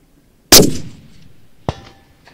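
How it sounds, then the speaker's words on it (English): A single sharp rifle shot cracks loudly at an outdoor shooting range with a hill, followed by a fading echo and a second fainter metallic report about a second later. "Firing."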